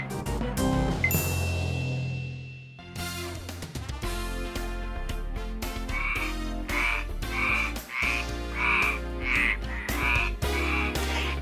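Frog croaking in a dramatic scene, heard as a series of repeated rhythmic croaks in the latter half, loud and close, set over musical tones and plucked notes with no voices.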